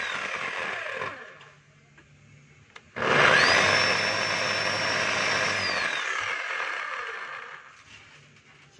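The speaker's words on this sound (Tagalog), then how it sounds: "5 kilos po ito ng jackhammer ng DeWalt. Ito gumagana siya mga kabay pero wala po siyang hammer." A DeWalt D25811 5 kg jackhammer with a faulty hammer action starts up loud and close, running steadily with a high whine for about four seconds before winding down, with no talk.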